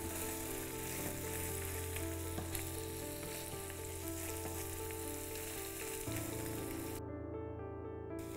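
Paneer steak frying in a pan, a soft, steady sizzle and crackle held close throughout, with a faint tonal hum underneath and no talking.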